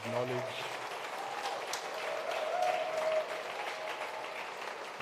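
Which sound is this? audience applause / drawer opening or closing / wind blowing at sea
audience applause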